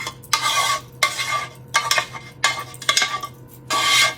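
Sauce over shredded ham in a crockpot being stirred with a utensil, giving wet scraping and clinking strokes in a steady rhythm of about six passes, close up with no talking.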